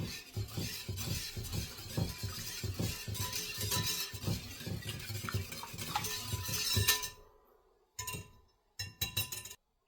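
A spoon stirs cornbread batter in a bowl with rhythmic scraping clinks, one or two per second, loud and close. The stirring cuts off near the end, leaving a few brief clinks separated by silence.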